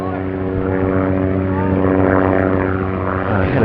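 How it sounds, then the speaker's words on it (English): A loud, steady rotor and engine drone of a helicopter passing near a cricket ground, with a faint voice talking underneath. "a helicopter just going past the ground"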